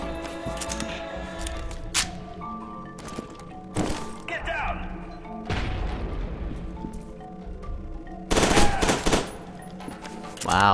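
Gunfire from the shooter game FEAR 2, heavy repeated bursts of automatic fire with loud thumping impacts, clustered near the start and end of the stretch and sounding close, with a voice speaking in between.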